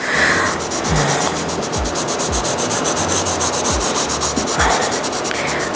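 Repeated scratchy strokes of a colored pencil shading on paper, rubbing in a steady back-and-forth rhythm, close and fairly loud, with no talking.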